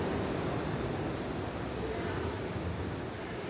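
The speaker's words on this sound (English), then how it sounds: "splashy noises, it's the water slide. The water slide is on." A water slide splashes on the deck of Royal Caribbean's Symphony of the Seas cruise ship, producing a continuous, loud rushing wash of water with no breaks.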